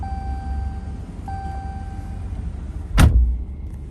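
2016 RAM 2500 Laramie with a 6.4 HEMI V8, heard from inside the cab: steady electronic chimes, then a sharp loud burst as the engine fires, followed by a low running rumble.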